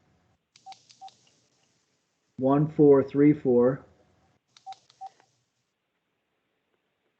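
Telephone keypad tones beep while someone dials into a meeting: a few short, clipped beeps come first, then a voice speaks briefly, then more quick beeps follow in a room that is otherwise quiet.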